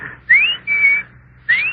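A person whistles to imitate the bird of a cuckoo clock, giving three clear rising and level whistled notes in a short, close, fairly loud phrase with brief gaps between them.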